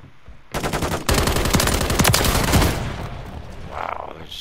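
Video game shotgun and rapid gunfire burst out loud and close, a dense crackling volley that starts abruptly, holds for a couple of seconds and then tapers into a lower rumble.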